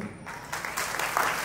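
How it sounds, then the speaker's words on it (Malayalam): Brief burst of audience clapping at an annual function of a music and fine arts academy, steady and moderately distant, growing a little denser toward the end. "നമുക്ക് നല്ലൊരു കൈയടി കൊടുക്കാറുണ്ട്"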